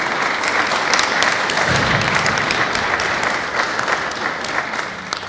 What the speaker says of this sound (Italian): Un applauso lo merita, lo facciamo subito.